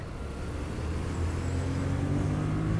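A 2021 Yamaha MT-07 motorcycle engine is gunned on a twisty road, and a steady, growling drone builds slightly in strength over a few seconds.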